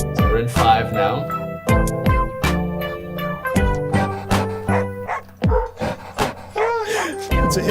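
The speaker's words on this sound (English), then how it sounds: "And we got doggy barks to help us count" Sampled dog barks and yips land in a punchy, rhythmic pattern in a hip-hop track, loud and repeated over a beat with a melodic line.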